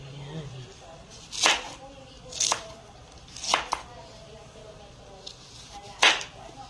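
A knife slicing through mango pieces on a board, four or five spaced, crisp cuts spread evenly over several seconds, close and fairly soft, with a voice talking quietly in between.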